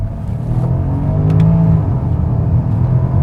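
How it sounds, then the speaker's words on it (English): Deep, throaty V8 engine rumble of a 400-hp 2010 Porsche Panamera 4S rising in pitch as it accelerates, loud and close, heard from inside the car. "you've got that deep V8 rumble that roars as you get on the throttle"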